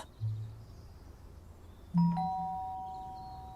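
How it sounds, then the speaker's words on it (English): A doorbell chimes twice at a house, a low tone early and then a brighter ding-dong tone that rings out and lingers, fairly faint against a quiet background. "Just as I was finishing weeding, the doorbell rang."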